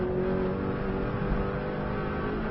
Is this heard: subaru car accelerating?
yes